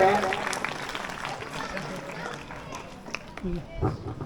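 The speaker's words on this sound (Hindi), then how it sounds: "जोरदार तालियों के साथ स्वागत करें।" An audience at an Independence Day school event applauds loudly, a dense wash of clapping. It fades somewhat while voices talk over and through it.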